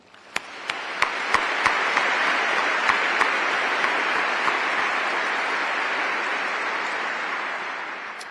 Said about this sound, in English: Please join me in a round of applause to this entire team for a job extremely well done.